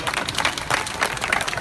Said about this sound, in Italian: mi 2 collaboratori che sono Gaetano Loverso, facciamo un grande applauso,